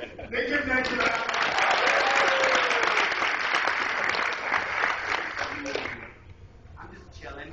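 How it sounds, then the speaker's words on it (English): Workshop audience at an anime convention acting session claps for a performer, a dense, steady burst of applause that fades out near the end, with some voices mixed in. "They give Lexi a round of applause."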